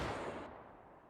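Musket volley fired on command in War of Rights, a Civil War battle at Dunker Church: a single loud, close crack of massed rifles decaying over a second, no talk over it.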